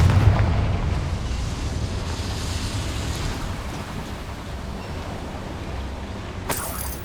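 A Confringo fire-spell blast in the Hogwarts Legacy video game lets out a loud, sustained, rumbling roar that holds steady for several seconds, then ends in a brief sharp crackle.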